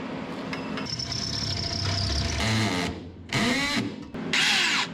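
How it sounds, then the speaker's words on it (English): A DeWalt drill bores a hole for an exhaust hanger under a 1973 Chevrolet, its motor whining steadily and close, with surging bursts as the bit bites into metal. "I think maybe we can go up there and drill a hole"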